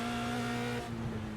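Single-seater race car engine, a Skip Barber or Formula Renault in iRacing, holding a steady high drone on a hot lap, then easing off with a rougher, lower tone near the end; no talking.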